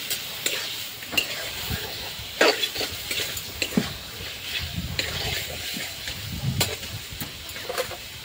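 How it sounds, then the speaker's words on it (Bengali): Meat, apparently chicken, sizzles and fries in a pan while being stirred, with repeated scraping and clinking of a utensil against the pan over a steady hiss, fairly close and moderately loud. "লাড়াচাড়া দিয়ে মাংসটা দিয়ে দিচ্ছি। এখানে মাংস রান্না করছি।"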